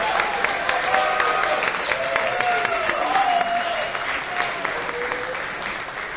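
A crowd at a Global Game Jam showcase applauds steadily and loudly throughout, with faint voices calling out beneath the clapping.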